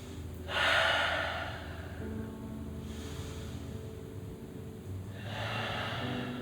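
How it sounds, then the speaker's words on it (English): Two deep, slow breaths during a gentle supine yoga twist, each a soft airy rush that swells and fades, heard alone over a steady low background hum. "Let's take 2 breaths."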